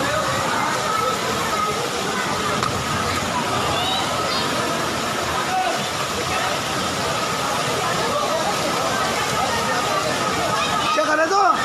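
Floodwater sloshes and rushes through a flooded area of Jaipur, Rajasthan, a dense continuous churning wash with engine noise in the background while people talk anxiously over it.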